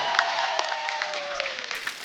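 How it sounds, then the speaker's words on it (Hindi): Studio audience at a Hindi comedy talk show applauding a guest's entrance, a steady wash of clapping with some cheering and a music tone underneath, fairly loud throughout the short stretch. "जोरदार तालियां हो जाए।"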